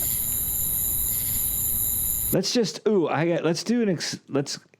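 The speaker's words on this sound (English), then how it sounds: "It's more cicada." A dense, hissing cicada-like buzz drones for two seconds, then cuts off abruptly as a person starts talking.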